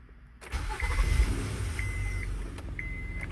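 A Honda Odyssey engine cranks and catches after a quiet start, then settles into a steady idle, with short electronic chimes sounding repeatedly over the running engine.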